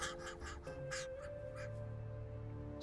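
Crows cawing around their nest, several harsh calls in a quick cluster near the start with a few more scattered after, fairly close over a steady low background hum.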